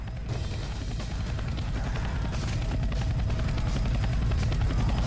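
A helicopter in the video game Left 4 Dead 2 makes a loud, steady rotor thump with rapid, even blade beats and a low droning hum, heard alone and close throughout.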